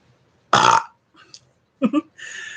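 A single loud, close burp erupts, followed by a couple of smaller guttural gulps and a breathy trailing sound in a quiet room.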